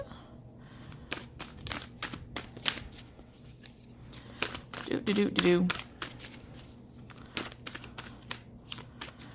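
Tarot cards are shuffled with crisp, rapid riffling snaps in several bursts, close up, while a quiet voice talks in between.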